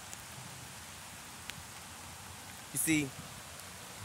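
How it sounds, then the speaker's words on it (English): Light rain falls outdoors as a soft, steady hiss throughout, with a brief spoken phrase near the end. "it's a little raining out here"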